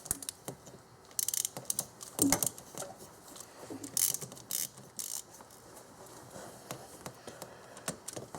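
A hand wrench ratchets and clicks in short bursts while tightening a belt tensioner bolt on a 1995 Oldsmobile 3800 engine, with faint clatter of metal between strokes.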